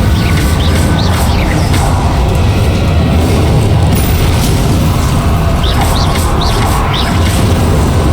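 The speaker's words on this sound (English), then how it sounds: "Incendio." The Incendio fire spell from the video game Hogwarts Legacy is cast, giving a steady, loud roaring rush with booming texture that fills the whole stretch, with faint chirps scattered over it.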